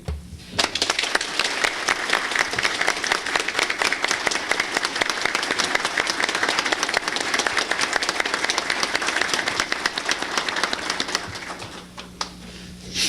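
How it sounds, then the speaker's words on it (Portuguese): An audience at a 1987 opening ceremony gives sustained, dense applause for a host and his team, many hands clapping steadily for about twelve seconds before it tapers off. "eu queria pedir a vocês uma salva de palmas para ele e para a equipe"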